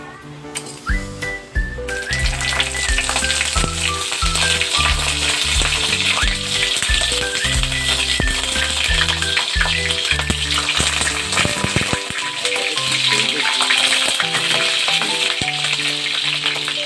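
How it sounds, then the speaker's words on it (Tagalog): Eggplant frying in a pan, a dense, steady sizzle that runs the whole way and sits under a bright layer of music, with faint clinks of stirring. "tapos na tayo mag-prito ng talong"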